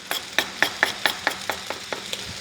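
Broccoli, onions and garlic stir-frying in a pan: about ten evenly spaced scraping, clattering stir strokes over a light sizzle, close and fairly loud.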